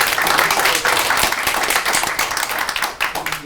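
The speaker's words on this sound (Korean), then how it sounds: "그리고 우궁이 여러분께도 박수 한번 부탁드리겠습니다." An audience at a forum event claps loudly in a continuous, dense ovation, with individual claps audible throughout.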